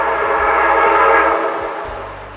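Freight train on the railroad line through Efland, North Carolina, south of Highway 70: a loud, sustained horn blast over rumbling rail cars, close by, fading slightly at the end.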